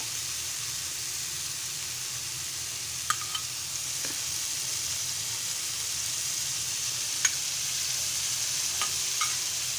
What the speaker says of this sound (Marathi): मी अजून बाजूसून थोडंसं तेल सोडते कारण की बोंबील मासे बुळबुळीत असल्यामुळे तेल जरा जास्त लागतं